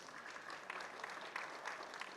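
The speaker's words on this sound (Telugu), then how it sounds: "మీరు ఒక్కసారి గట్టిగా చప్పట్లు కొట్టండి" An audience applauding at a film event speech, a steady wash of clapping heard faint and somewhat distant, continuous for a couple of seconds with no voices.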